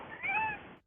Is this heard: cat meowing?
yes